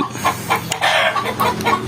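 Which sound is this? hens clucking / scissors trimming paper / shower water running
hens clucking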